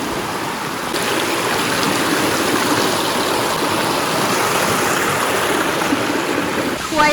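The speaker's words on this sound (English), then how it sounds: "I think this is a stream crossing." A stream rushes steadily at a rocky trail crossing on a western North Carolina hike, a broad close wash of flowing water that continues throughout.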